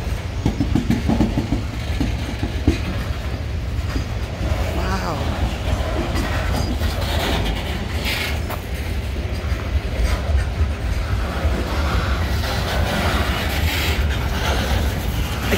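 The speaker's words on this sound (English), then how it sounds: "This is one long train" A long CSX freight train with a mid-train locomotive rumbles past close by in Palmer, Massachusetts, steady low roar with rattling and clanking wheels, squeals and clicks rising and falling throughout.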